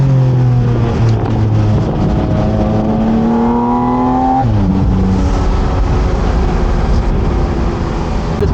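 A Porsche Spyder RS engine revs hard and loud toward 9,000 rpm, its pitch climbing through the gears, dropping sharply on a shift, then building again.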